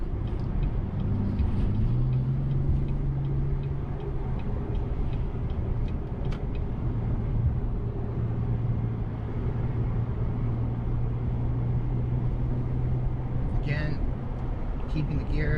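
A 2019 Chevrolet Colorado ZR2 pickup pulls onto an on-ramp, its engine giving a steady low drone with road rumble and a rising tone as it accelerates, heard from inside the cab.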